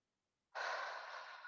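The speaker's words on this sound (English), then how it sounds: "We'll take one more deep breath." A single deep breath taken during a yoga core flow class, a long, soft airy exhale or sigh that starts abruptly after a brief silence and is sustained close to the microphone, with no talking.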